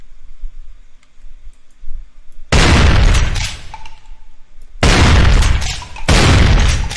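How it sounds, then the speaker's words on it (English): Three loud, booming shotgun blasts from the video game Brutal Doom, unevenly spaced, each with a ringing decaying tail, after a few seconds of quiet low game ambience with no talk. "Even more shotgun shots."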